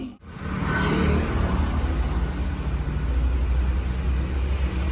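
Tata Nexon car driving just after a service, its engine and road noise a steady loud rumble from inside the cabin with no voices.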